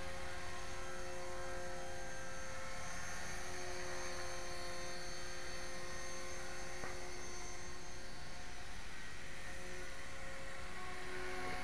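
An HK 450GT radio-controlled helicopter flying over snow gives off a steady, high-pitched rotor and motor whine that holds continuous and fairly close for the whole stretch, with no talking.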